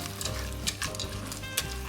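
Quiet sizzling and crackling of eggplant stew ingredients with yellow split peas frying in a pot, with a couple of faint stirring clinks.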